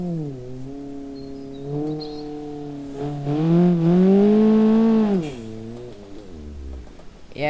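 Car engine at full throttle in BeamNG.drive, a loud droning whine that climbs steadily in pitch, dips briefly, then surges higher before easing off near the end.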